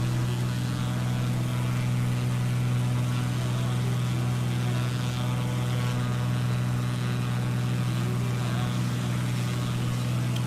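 A twin-engine Piper Seminole propeller aircraft drones steadily in Microsoft Flight Simulator 2020, a constant loud hum with strong low tones and no change throughout.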